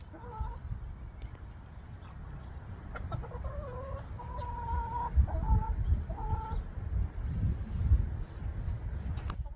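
Free-ranging hens cluck in short harmonic bursts over a steady outdoor rumble in a yard, several birds calling irregularly at moderate distance.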